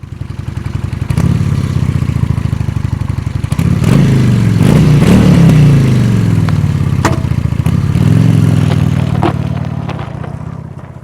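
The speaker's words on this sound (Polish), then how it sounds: "ten motocykl brzmi cicho, ale bardzo, powiedziałbym, dostojnie, bardzo ładnie" A Honda Shadow Slasher 400 cruiser motorcycle engine idles with a low, steady thump, then revs up a few times before settling back, close by and fairly loud.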